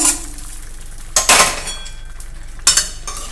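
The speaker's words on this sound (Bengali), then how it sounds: "এবার মাংসের সঙ্গে কিন্তু আলুটাকে মিশিয়ে দেব।" A spoon stirring potatoes into chicken curry in a pot, with soft scraping broken by two sharp metallic clinks against the pot's side, close and clear.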